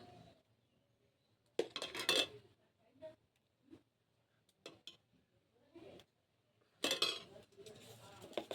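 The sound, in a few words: mango pulp being spread onto oiled metal plates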